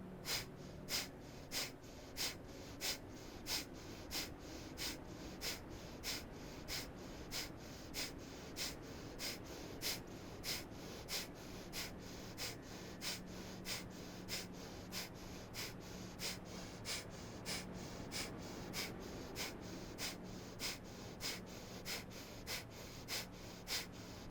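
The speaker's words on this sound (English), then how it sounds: "Take a big inhale for breath of fire." Breath of fire yoga breathing during a vinyasa flow: a fast, even train of sharp nasal exhales, about two per second, held steadily for over twenty seconds, fairly close and quiet, with no talking.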